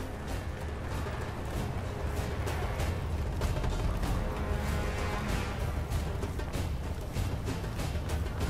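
An objective charge is armed in Battlefield 1, a war video game, making a steady mechanical ratcheting and clicking under continuous gunfire and explosions.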